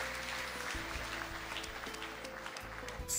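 Applause from the audience at the Nigerian Sports Award 2016 presentation runs steadily throughout, a continuous clapping wash under a hum of music or background tones.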